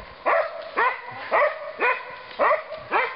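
A dog barks in a steady run of six sharp, close yelps about half a second apart, some breaking into whimpering whines, while chickens are loose nearby.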